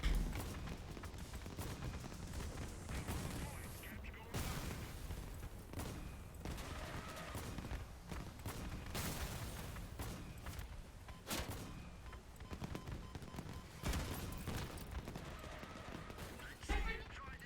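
Video game missiles launch in a continuous, loud stream of blasts and explosions, with a voice talking intermittently over the barrage.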